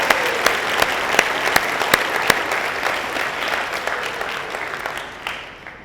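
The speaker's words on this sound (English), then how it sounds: "Let's hear a big applause for all our management team." An audience at a city's State of the City event claps for the management team in sustained, dense applause with a few sharper individual claps, fading gradually toward the end.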